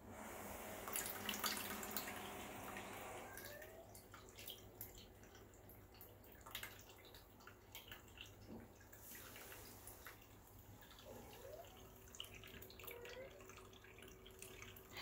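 A sensor-activated pet water fountain trickles and drips steadily, a faint gurgling flow with occasional small splashes, quiet and close, no talking.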